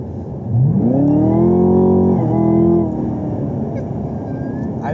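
A Chevrolet Camaro ZL1 accelerates hard, its engine note rising loud and close through a climbing rev sweep, holding high for over a second, then dropping back to a lower cruising drone.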